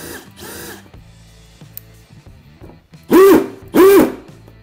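A cordless hammer drill whirs quietly, then bursts twice into loud, rapid hammering in hammer mode, each burst lasting about half a second, close by.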